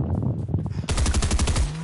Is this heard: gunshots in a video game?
yes